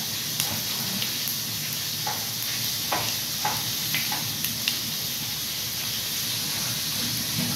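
Dried red chillies sizzling in hot frying oil beside cumin, a steady bright hiss with small crackles and occasional stirring taps, close and continuous with no talk.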